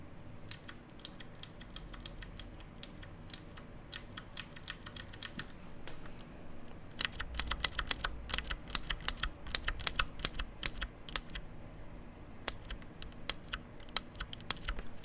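Fingers type on a CM Storm QuickFire Rapid mechanical keyboard with green switches, producing crisp, close clicky keystrokes in quick bursts. A short pause falls mid-way, then a denser flurry of clicks follows, with no talk.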